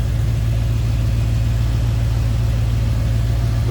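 A 1986 Chevrolet C10 pickup with a swapped LS V8, headers and cold air intake, idling steadily with a smooth, even low rumble, close and loud throughout.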